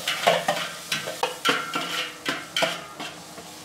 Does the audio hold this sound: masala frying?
yes